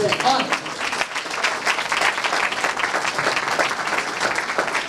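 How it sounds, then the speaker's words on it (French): Audience applause at a business gala, with dense, loud clapping from a large crowd that swells and stays steady, and some voices mixed in beneath it. "Et vous pouvez encore vous applaudir."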